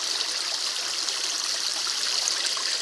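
Water pours over rocks at the Cachoeira da Serrinha waterfall in Carmo do Cajuru, as a steady, close, loud rushing hiss with no voices.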